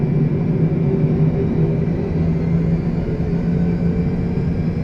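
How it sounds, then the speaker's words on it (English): Airliner engines spooling up for takeoff in a flight simulator, a steady loud rumbling roar with a low droning hum that holds constant throughout, no talk. "Lined up nicely on runway 25 right, clear to take off."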